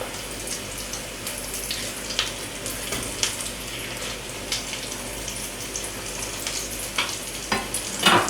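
Mushroom cutlets sizzle and crackle steadily in a hot pan, a constant close frying hiss with occasional sharper pops.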